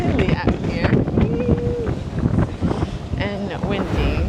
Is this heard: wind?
yes